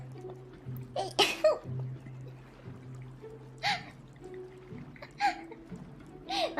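A VTuber sneezes during a live stream, a sharp burst among several short breathy gasps and bursts spaced a few seconds apart over a faint low hum.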